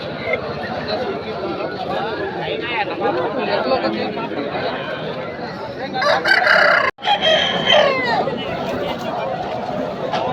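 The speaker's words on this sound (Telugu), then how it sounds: "వీడియోలో కనిపిస్తుంది కోడిరాజంగి పుంజు" A Kodi Rajangi rooster, 11 to 12 months old, crows amid the busy chatter of a crowded village livestock market, with people talking loudly all around and the crow rising briefly over the din.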